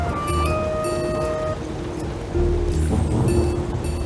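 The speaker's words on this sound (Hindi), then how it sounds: "पहली बारिश में छुपकर नहीं बैठते," First rain of the season falling in a steady outdoor wash, the broad hiss of drops filling the scene with a swell in loudness partway through, alongside some tonal background sounds.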